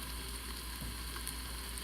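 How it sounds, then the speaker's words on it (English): Tomato paste sizzling in the hot inner pot of an Instant Pot, a steady, even hiss of frying with no pauses, fairly quiet and unaccompanied by talk. "let the tomato paste cook out for about another probably 30, 40 seconds"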